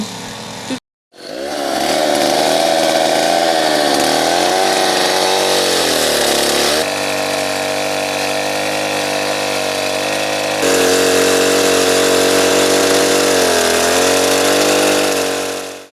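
A chainsaw roars continuously and loudly, its engine pitch rising and dropping as it revs and cuts, with a brief cutoff near the start.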